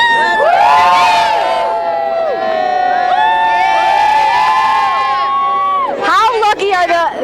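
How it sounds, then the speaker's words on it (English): Children cheering and shouting for the Phillies at the 2008 championship parade, a loud sustained crowd roar of high whooping voices lasting several seconds, dipping briefly before a final burst of yells. "let's hear Phillies cheer."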